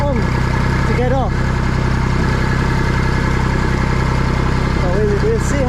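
Tractor engine labouring loud and close as it climbs a steep hill with the foot throttle applied. A steady low drone holds throughout, with brief pitch rises near the start and near the end.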